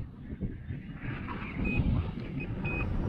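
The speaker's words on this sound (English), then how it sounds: "it does beep as you're recording" A HolyStone HS110D 1080P camera drone flying outdoors in wind gives short, thin electronic beeps while recording, several faint tones over gusty wind rumble.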